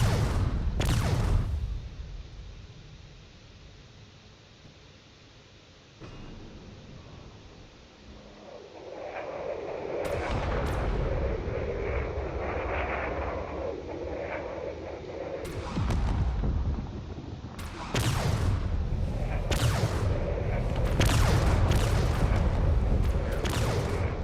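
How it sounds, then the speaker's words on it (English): Missiles and cannon shells strike a cruiser in the space combat game Drone Wars, a dense, loud run of booms, rumbling blasts and rapid impacts building over a continuous roar, with no talk. "Some of those cannon shells are connecting, which is not great."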